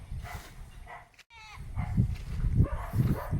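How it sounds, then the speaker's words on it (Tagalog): Many goats at a rural farm lot bleat in short overlapping cries, close by and fairly loud, with a brief gap before more calls pile up. "Dami ng kambing sa ating area"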